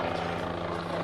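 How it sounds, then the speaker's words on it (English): A helicopter flies low over Main Street during a nighttime holiday parade of lights, its steady rotor and engine drone loud and continuous throughout. "helicopter coming down Main Street, and we believe Santa Claus is on this helicopter."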